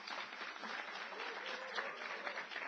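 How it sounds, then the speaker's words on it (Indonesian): Audience at a church sermon applauding, a steady, dense clapping that fills the whole stretch without letting up. "Utang lunas, tepuk tangannya cepet bener."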